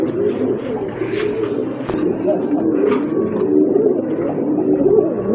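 Pigeons coo softly and repeatedly close by, their throaty murmuring calls overlapping against a steady background hum.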